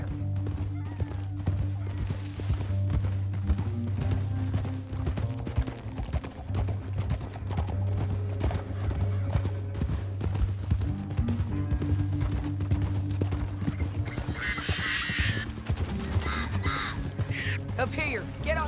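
Horses' hooves pounding along in the video game Red Dead Redemption 2, a quick rhythmic clip-clop under a steady low musical drone, with voices talking over it and crows cawing near the end.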